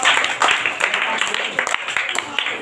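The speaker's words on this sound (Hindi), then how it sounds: "जोरदार ताली हमारे विवेक के लिए एक बार" A school audience claps for a student named Vivek, a brief scattered burst of hand clapping at close range.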